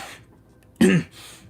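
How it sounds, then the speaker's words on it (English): A single sharp cough and throat clear from one person, short and close, set between quiet stretches. "Just had to cough, clear my throat a bit."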